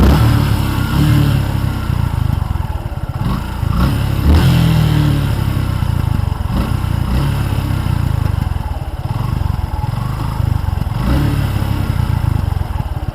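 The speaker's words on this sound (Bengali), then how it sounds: "সাউন্ডটা শোনাই আপনাদের," Engine of a Suzuki Gixxer SF Fi ABS motorcycle, a loud close steady idle rumble with a few brief throttle blips, running alone without talk.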